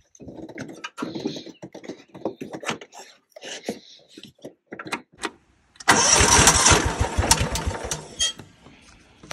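A Cub Cadet HDS 2135 lawn tractor engine, recently repaired with a new relay, cranks over and catches at about six seconds, then runs loud and rough close by after a stretch of clanking and handling noises.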